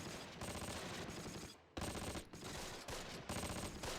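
Sustained bursts of automatic gunfire from a street battle in a World War II tactical video game, with dense rattling volleys that pause briefly twice before resuming, loud and continuous throughout.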